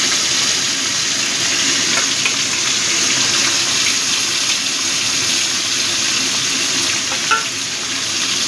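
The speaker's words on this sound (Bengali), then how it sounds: "বাকি মাছগুলো আমি দিয়ে দিলাম, একইভাবে এটাও সাঁতলে নেব।" Mourola fish sizzling steadily in hot oil in a pan, a dense continuous hiss of frying with faint stirring clicks and no voices.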